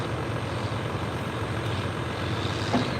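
A turbocharged pulling tractor limited to 466 cubic inches roars at a tractor pull in Virginia, a dense, steady engine drone with a rising whine near the end, heard from a moderate distance.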